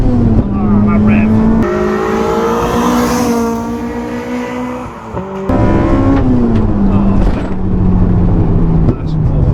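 An EP3 Honda Civic Type R engine held hard against the rev limiter, a loud close buzzing drone with steady harmonics that briefly dips and bounces back, while voices talk over it.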